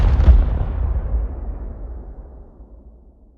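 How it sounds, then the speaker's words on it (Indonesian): A single heavy sniper gunshot in a film, one sharp booming report up front followed by a long low rumbling decay that fades over about three seconds. "Seorang sniper handal saat itu memang sudah disiapkan untuk membungkus Duke"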